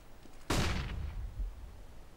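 Flashbang grenade going off in CS:GO, a single sudden sharp bang that decays into a hissing rumble over about a second, heard alone.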